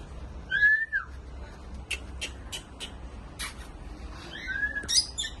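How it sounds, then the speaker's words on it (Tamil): African lovebirds chirp with a couple of bright rising whistles and scattered short sharp tweets, close by over a low background murmur. "ஆப்பிரிக்கன் லவ் பேர்ட்ஸ் இருக்கு பாருங்க, நல்லா அழகா எப்படி இருக்கு பாருங்க"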